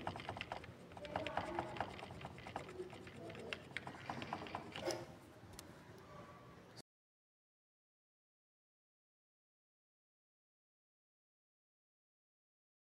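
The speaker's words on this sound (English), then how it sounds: "Now I press F2 on my keyboard." Computer keyboard keys clatter in quick, uneven bursts during a Windows 11 setup fix, close and fairly clear for several seconds before the sound cuts to silence.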